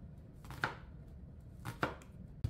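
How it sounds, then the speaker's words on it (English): A knife cuts through an onion into half-moon slices, giving two crisp, close chopping strokes against a board in an otherwise quiet kitchen. "So you want to slice the onions in half moons."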